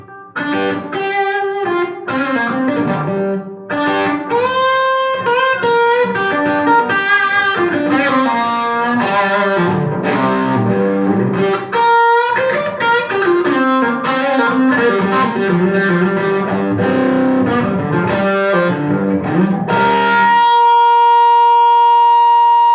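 A boosted, slightly gritty electric guitar through a gain booster pedal plays a busy run of notes and chords, loud and up front, ending on a sustained ringing chord.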